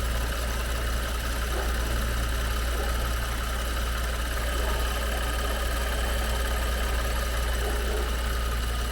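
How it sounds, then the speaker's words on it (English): A BMW N55 engine idles steadily with its cooling pump running, a constant low droning hum with slight knocking texture and vibration, close and even throughout with no talking. "That's the pump kicking on."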